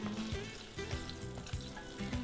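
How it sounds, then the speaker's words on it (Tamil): Mustard and coriander seeds crackle and sizzle in hot oil, a soft continuous frying hiss with scattered pops, fairly quiet and close. "கொஞ்சம் கொத்தமல்லி, கடுகு தாளிக்கிறோம்"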